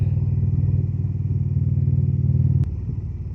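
A motorcycle rumbles steadily close by as it rides over loose gravel, with a deep, even engine drone that shifts slightly near the end and has no talk over it.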